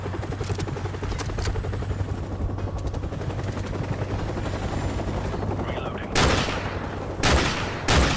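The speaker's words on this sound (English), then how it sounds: "Chopper's inbound!" Inbound helicopter in the Modern Warfare Remastered campaign: a loud, continuous rotor thumping throughout, with heavy bursts of automatic gunfire cracking over it toward the end.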